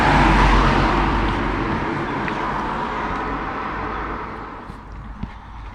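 A car crosses a small village bridge in Cheriton, Hampshire, its tyre and engine roar loudest at first and then fading slowly into a softer road hiss, with a few faint knocks near the end.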